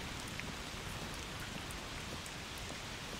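Steady, soft rainfall in A Plague Tale: Requiem, a constant hiss of drops hitting surfaces with faint scattered pattering, no voices over it.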